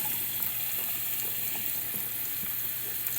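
Onion and garlic sizzle steadily in a hot pan, a constant crackling hiss with small pops, close up and without talking.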